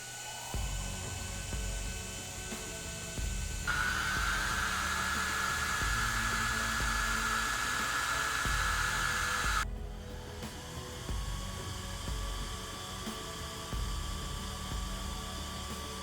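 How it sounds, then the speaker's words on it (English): Cooling fans of an Imalent SR32 flashlight whir steadily and fairly loudly, with the pitch and intensity shifting in stages as the fan speed changes. "cooling fans provide some noise, maybe disturbing one in the forest"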